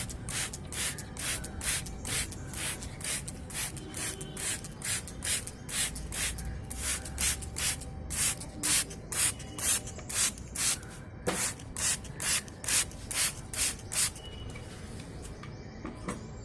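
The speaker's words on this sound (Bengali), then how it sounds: "এই আমার জল দেওয়ার কাজও হয়ে গেল" Water sprays onto a ficus rumphii bonsai in a steady hiss, with rapid regular spurts from a hand sprayer that grow more pronounced toward the end, close by.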